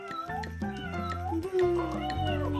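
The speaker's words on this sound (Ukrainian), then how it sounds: "мурчить, мурчить" A soft plush toy cat gives out a string of close, clear electronic meows, several rising and falling cries one after another.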